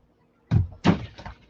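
A door opens or closes at a swimming stroke demonstration, giving two close, solid thuds about a third of a second apart, then a fainter rattle, with quiet before.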